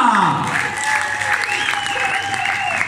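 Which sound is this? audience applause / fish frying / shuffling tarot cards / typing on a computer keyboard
audience applause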